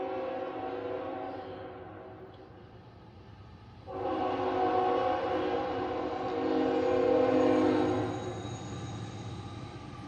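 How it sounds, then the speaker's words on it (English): A long Norfolk Southern unit tank train rumbles steadily past while climbing a hill, growing noticeably louder midway as heavy cars roll by, with a faint high whine over the continuous roar. "Unit tank train."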